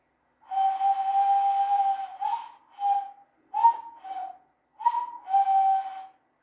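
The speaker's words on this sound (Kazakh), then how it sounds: "Сол ойыққа үрлесек, балалар, дыбыс шығады." Hollow, breathy whistling made by blowing into cupped hands, a long sustained note followed by several short hoots with brief pauses, close and fairly loud.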